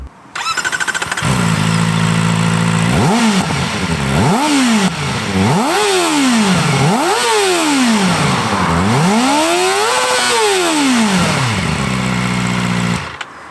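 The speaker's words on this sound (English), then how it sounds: "a huge part of what makes this bike fun to ride has to be the soundtrack, with that screaming, revvy inline 4 sound" A Kawasaki ZX-4RR sport bike's inline-four engine starts, idles briefly, then revs repeatedly in a series of rising, screaming blips, with a final longer rev before settling; loud and close, with no talking.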